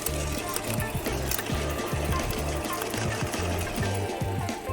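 A HECHT 6300XL Silent garden branch shredder with a 3000 W brushless motor runs close by, chewing branches in a loud, rhythmic chattering pattern that continues steadily throughout without letting up.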